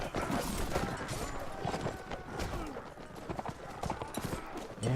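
A herd of horses gallops in Mount & Blade: Warband, dense hoofbeats drumming steadily throughout amid battle noise, with a voice talking over it.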